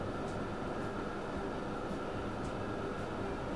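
Trains running on a rail line in the Transport Fever simulation game, a steady rumbling rail noise with a constant broadband hum that stays even and continuous throughout, no voices.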